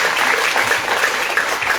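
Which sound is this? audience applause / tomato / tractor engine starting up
audience applause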